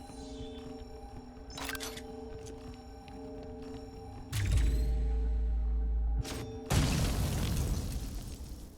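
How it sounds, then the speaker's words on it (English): In the video game Flashback 2, a deep booming explosion erupts partway through, followed by a second burst of crackling debris, over a faint electronic hum with scattered clicks. "It's explosion day."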